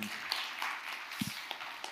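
Audience applause rises after a talk at an economic forum, a soft, diffuse patter of clapping heard from a distance at low volume, with a few sharper hand claps poking through.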